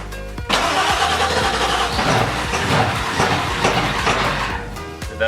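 A 1997 Ford F250 Powerstroke diesel with a manual swap cranks and fires up, settling into a loud, close, rattling idle that runs on for several seconds before cutting off, with no voices.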